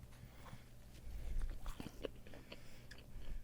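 Close bites and soft chewing of an original glazed Krispy Kreme donut, a few muffled crunchy bites followed by moist mastication, quiet and near.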